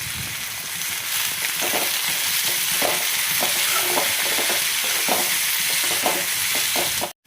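Sliced onions and green chillies fry steadily in hot oil for a chicken curry, a continuous close, loud sizzle broken by repeated stirring scrapes, with no voices.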